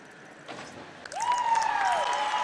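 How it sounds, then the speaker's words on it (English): Fans at a women's 10-meter diving final applaud after a dive, a scattered clap swelling into broader, steady applause with faint cheering and whistles in an indoor venue. "you'll hear the fans give her some applause for sure"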